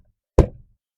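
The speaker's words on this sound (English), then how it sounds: "gently tap it in the 4 locations I know it fits" A single dull knock as a Renault Avantime door card is tapped into place, short and close with a quick decay, surrounded by silence.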